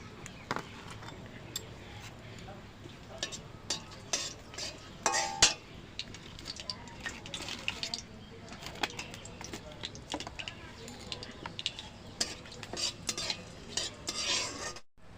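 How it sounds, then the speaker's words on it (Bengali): Whole spices, including dried red chillies, bay leaves, cardamom, cinnamon, coriander seed, cumin and five-spice, frying in hot oil while a spoon scrapes and stirs, giving faint sizzling and clinking scrapes. "মশলাগুলো ভাজা হয়ে এসছে আর একটা সুন্দর গন্ধ বেরিয়েছে"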